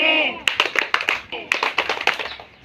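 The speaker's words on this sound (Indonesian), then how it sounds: "Tepuk Yesus" Children play the Tepuk Yesus rhythmic clapping game in a church children's group, sharp close claps in a patterned rhythm alongside chanting voices.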